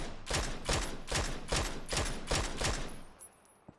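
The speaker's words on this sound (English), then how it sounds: "Few shots will ward Clib away." Gunfire in PUBG during a pro esports scrim, a rapid string of about seven evenly spaced automatic rifle shots, fairly loud, then fading off with a couple of distant pops.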